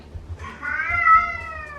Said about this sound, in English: Ignore the cat meowing